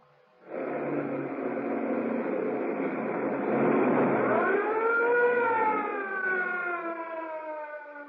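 A wailing siren rises and holds steady, then swoops in pitch, loud and sustained, from a police car during a chase through narrow waterfront streets.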